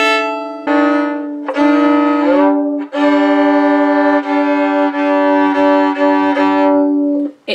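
A carbon fiber violin, slightly out of tune after time in a cold environment, sustains long, rich notes in a few strokes, the pitch sliding slightly between them, loud and close with no talking.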